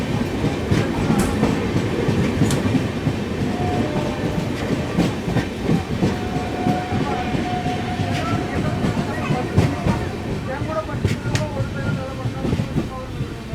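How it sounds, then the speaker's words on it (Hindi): The Bhagat Ki Kothi–Mannargudi Express passes by, a loud continuous rumble with rhythmic wheel clatter over rail joints and faint metallic squeals. "हम लोग को यहाँ मिली है भगत की कोठी मन्नारगुड़ी एक्सप्रेस"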